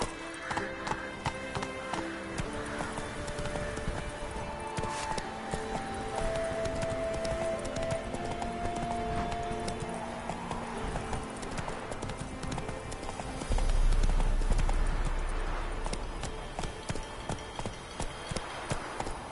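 Horse hooves galloping in The Witcher 3: Wild Hunt, a fast, steady clip-clop rhythm that runs throughout at moderate level over game music and ambience, with a brief louder surge partway through.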